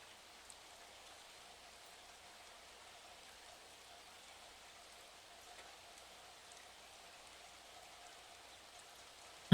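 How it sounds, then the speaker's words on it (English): Gentle rain falls steadily and softly, a faint even patter with no voices, ending in a sudden loud knock at the very end. "I am nourished and hydrated by the gentle embrace of the rain."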